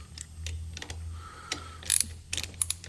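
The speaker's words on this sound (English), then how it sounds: "now I've got my ratchet out with my 8mm. I'm gonna go ahead and around and tighten them all pretty good." An 8mm socket on a ratchet tightening driveshaft bolts on a 1999-2004 Jeep Grand Cherokee, with quick clicking and ratcheting bursts and faint metallic ticks over a low background hum, fairly quiet and close.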